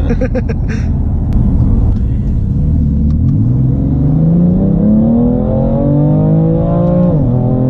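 A BMW M3 F80 Competition engine revs hard, its rising harmonic sweep climbing steadily before cutting at the limiter, loud and close over a constant rumble, with brief voices at the start.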